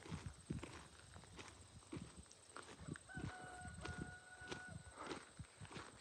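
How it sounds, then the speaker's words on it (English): A rooster crows faintly in the distance over steady clip-clopping footsteps on a quiet outdoor walk. "Can hear one of my roosters in the background."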